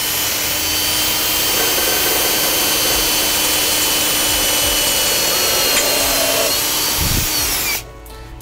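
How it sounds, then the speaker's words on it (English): A loud power drill whines steadily for several seconds, its pitch wavering slightly as it bores into the center of a wooden 2x4, then cuts off abruptly. "We're going to drill straight in the center of this 2x4 with a slight up angle"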